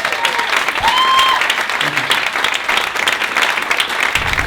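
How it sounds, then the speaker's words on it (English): An event audience at an Industry Rockstar gathering claps for a speaker, a steady, loud wash of applause lasting several seconds with a faint tonal whistle or squeal briefly heard near the start. "Let's give him an applause."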